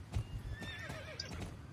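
A horse in the online game Star Stable Online gives a quiet, wavering whinny alongside soft clip-clop hoofbeats, all faint and brief.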